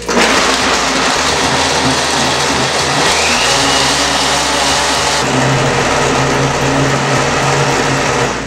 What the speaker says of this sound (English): now that it's done blending, you're going to take it off your blender